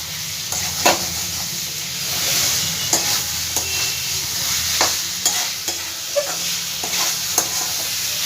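Vegetarian chhanar kalia, a paneer curry, fries in a pan over a high gas flame, with a continuous sizzle and repeated scraping knocks of a spatula stirring it close by, and no voices.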